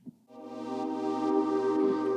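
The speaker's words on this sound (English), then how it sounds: "But then you'll hear the kick drum sidechaining it." Modular synth tone fed through a phaser into a compressor sidechained by a kick drum, entering after a short thump and sustaining as a bright harmonic drone with subtle rhythmic dips.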